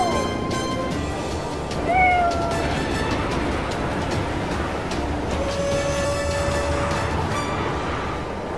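A cartoon cat meows in a few rising, plaintive calls, one clearly louder in the middle, over a busy, noisy background of rumbling and clatter.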